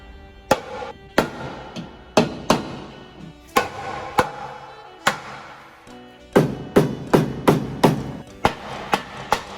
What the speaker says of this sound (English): lining it up and then hitting it as hard as I possibly can to crack the bumper